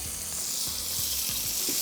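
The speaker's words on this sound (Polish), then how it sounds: "I wszystko dokładnie usmażę." Steady loud sizzling of goose frying in a pan, with occasional soft clinks and scrapes of a utensil; no talking.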